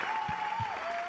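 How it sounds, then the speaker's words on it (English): An audience applauds at an awards ceremony, a brief, dense wash of clapping with a few lower thumps and a steady tone running through it. "everyone should give it a huge round of applause for all the mothers"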